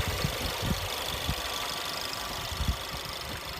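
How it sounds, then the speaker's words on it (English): Standard engine of a 2015 Ford Edge SEL idling with the hood open, a steady close low rumble with faint regular pulsing, no talk. "this is the standard engine for the Ford Edge"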